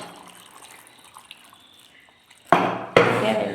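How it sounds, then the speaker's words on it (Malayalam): Water is poured into the ingredients for a Wayanad-style sambar being cooked. After a quiet stretch of faint kitchen noise, a loud, close rushing pour starts, breaks off for an instant, then continues strongly. "കുറച്ച് വെള്ളം ഒഴിച്ചിട്ട് നമുക്കിതൊന്ന് അരച്ച് വെച്ച് വേവിക്കാം"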